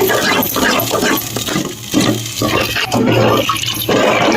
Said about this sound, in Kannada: ಫ್ರೈ ಆಗಿದೆ ನೀರು ಹಾಕಿದ್ದೀನಿ